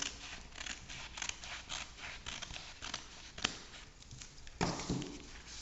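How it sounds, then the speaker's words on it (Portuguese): Scissors snipping through the bound edge of notebook paper, a run of crisp, close cuts and rustles in an uneven rhythm, with a louder crunch near the end. "Você vai cortar na parte que une as folhas."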